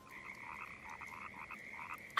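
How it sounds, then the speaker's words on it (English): Cartoon frogs croak in a steady chorus of repeated chirpy calls, fairly quiet and continuous, with a sudden louder sound at the very end. "I hear more frogs."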